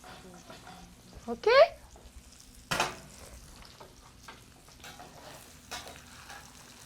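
Fish sautéing in a pan for sole almondine, a soft steady sizzle with a couple of sharper clatters and scrapes of the pan, and a brief spoken word over it.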